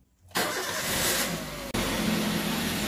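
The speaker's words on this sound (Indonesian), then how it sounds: "Kita coba dulu, nyalakan dulu mesinnya ya teman-teman." A car engine cranks and catches after a moment of silence, then runs loud and steady, with one brief cut before it settles into a continuing rumble.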